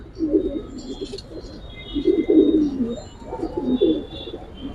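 A female Giribaz or racer pigeon coos softly in close range, giving several low, rolling coo phrases in a row with faint background noise.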